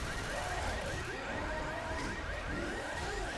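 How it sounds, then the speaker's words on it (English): Car alarm blaring in the video game Left 4 Dead, a continuous wailing tone held loud throughout under dense game noise and rumble. "Car alarm goes off."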